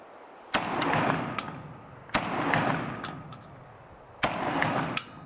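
JTS M12 AK 12-gauge shotgun firing Winchester Drylock shells at a range, three loud, sharp blasts about two seconds apart, each followed by a booming rumble and metallic action clatter.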